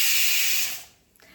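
A pressure cooker cooking dal lets out a loud, close hissing whistle of escaping steam that fades away after under a second. A soft click follows, and nobody speaks.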